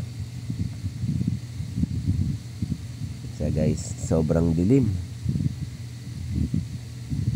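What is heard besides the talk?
strong wind blowing while travelling by sea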